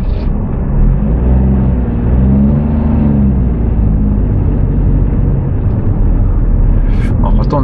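A car cruising along a highway gives a steady loud engine and road rumble with wind noise inside the cabin, continuous throughout and unbroken by pauses.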